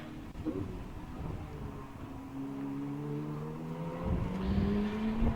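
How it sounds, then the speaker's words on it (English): Racing cars, including a Ferrari, roar around Snetterton circuit, with sustained engine drones rising and shifting in pitch as they pass, growing louder toward the end. "Wheeler pulls into third place past the Ferrari of Bon Grimes."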